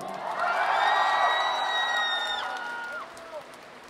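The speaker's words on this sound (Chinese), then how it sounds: "咱们大家给他们一些掌声鼓励。" A festival crowd applauds and cheers for a live band, a loud roar with several long, bright whistles that tapers off toward the end.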